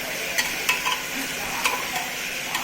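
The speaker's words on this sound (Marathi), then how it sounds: "असं शेंगदाणे चांगले परतून घेतले पाहिजेत असे पूर्ण" Peanuts being roasted and stirred in a pan for masala rice, giving a steady dry sizzle with light scraping and occasional taps of the spoon against the pan, close and continuous.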